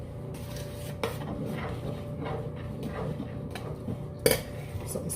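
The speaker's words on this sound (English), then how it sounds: "You have to make sure you stir it in, okay?" Green plantain and oats porridge being stirred in a pot, soft scraping swishes with two sharper clinks of a utensil against the pot, close and fairly quiet.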